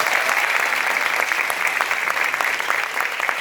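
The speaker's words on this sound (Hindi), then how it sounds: "एक बार तालियां बजनी चाहिए इनकी जीत के लिए।" An audience at a street-theatre performance claps loudly and continuously, the close, dense applause holding steady throughout with no talking over it.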